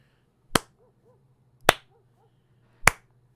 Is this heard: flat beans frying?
no